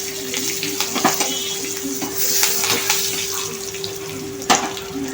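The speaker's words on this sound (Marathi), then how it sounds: "जिरी मोहरी तडतडली आहे। आता कढीपत्ता" Curry leaves drop into hot oil already crackling with mustard seeds, cumin and a pinch of asafoetida for a raw mango chutney tempering, giving a steady close hiss with scattered pops and a constant faint hum underneath.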